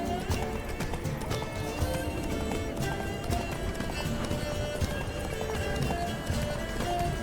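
Horses gallop in The Witcher 3, a steady dense clatter of hoofbeats running the whole time, with neighing and whinnying over the drumming, loud and continuous with no talk.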